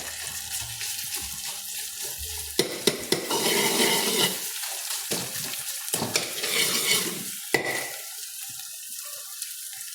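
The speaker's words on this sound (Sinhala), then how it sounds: "ඊට පස්සේ මාළු දානවා ඒකට" Fish goes into a hot frying pan during home cooking, bringing a clatter followed by loud, close sizzling hiss that swells and ebbs in waves as the pieces settle and are moved about.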